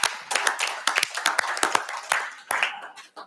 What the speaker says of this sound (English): ask you to give him a little applause so he can hear it